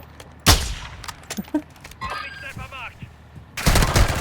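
Gunfire in the video game Call of Duty Warzone 2.0: a loud shot at the start, scattered smaller impacts and metallic clinks, then a heavy rattling burst at the end, with a voice briefly heard.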